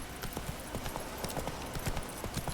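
Horse hooves clip-clopping in The Witcher 3: Wild Hunt, a quick, regular trot of distinct hoof strikes at close range, with in-game ambience running underneath.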